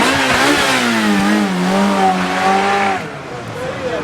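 A car accelerating hard at a Cars & Coffee meet in Brescia, a loud, close engine climbing steadily in pitch for about three seconds before easing off, with excited shouting over it.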